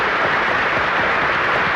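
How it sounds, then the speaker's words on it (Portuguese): Sustained applause from dignitaries filling the Assembly's Salão Nobre for Marcelo Caetano, a dense, steady clatter of many hands throughout, with no talk over it. "Recebe os aplausos de todas as individualidades"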